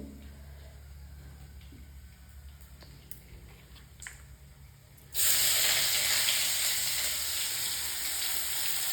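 Hot oil spattering loudly when onion goes into a pan of oil tempered with kalo jeera for a farsha fish recipe, a sudden roaring sizzle that stays strong after quiet crackles.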